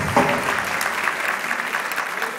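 Guests at a wedding ceremony applaud the groom at the officiant's request. Steady, dense clapping fills the room from start to finish at moderate volume, with a faint murmur of the crowd beneath it.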